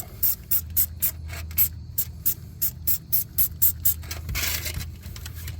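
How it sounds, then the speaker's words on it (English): Rapid bursts of degreaser spray from an aerosol can, about a dozen short hisses in quick rhythm, ending with a longer continuous spray, close to the microphone, while working on a leaking gas tank of a 2001 Toyota Avalon. "Let me spray some more degreaser"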